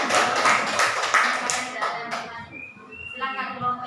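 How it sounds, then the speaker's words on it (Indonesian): A group of teachers at an academic supervision coaching session applauds a presenting group, a burst of close clapping that fades within two seconds, followed by chatter and voices. "Baik, kita berikan aplaus untuk kelompok 2."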